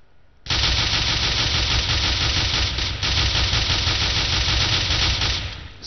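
Dual Beretta pistols fire in the CS:GO video game in a rapid, sustained burst of close, loud shots lasting about five seconds, one brief dip in the middle, with no talking.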